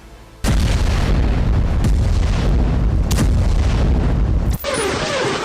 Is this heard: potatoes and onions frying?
no